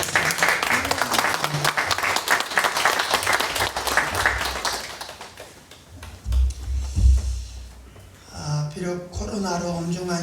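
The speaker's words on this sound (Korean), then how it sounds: "박수해 주시기 바랍니다." Church congregation applause after an infant baptism at a Sunday worship service, a rapid, dense clapping that fills the first half, then fades out as a voice begins speaking over a low rumble.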